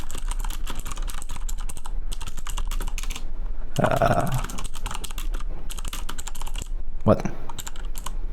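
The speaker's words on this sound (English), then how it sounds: "I have gotta put it in a much better position for typing" Computer keyboard typing in uneven bursts of close, clicky keystrokes with short pauses between, a voice briefly speaking partway through.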